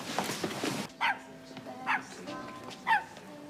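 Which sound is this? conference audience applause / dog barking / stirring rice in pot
dog barking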